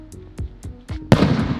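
Diwali firecracker aerial shots set off from a mobile app, several sharp, separate pops spaced about a quarter second apart, followed by a louder, fuller burst that keeps sounding, all close by.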